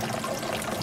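Water pours steadily through a filter at a Silver Dollar City festival, a brief continuous splashing trickle with no voices.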